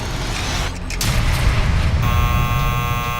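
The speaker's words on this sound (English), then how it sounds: "She hears the buzzer, but the intercom is not working" After a low rumbling bump, a door buzzer sounds as a loud, steady electric drone that keeps going to the end.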